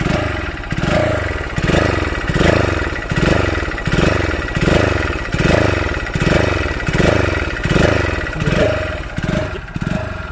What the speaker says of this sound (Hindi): आप यहाँ पर खुद ही इसकी साउंड सुन सकते हैं। देखिए किस तरीके से ये बाइक कर रही है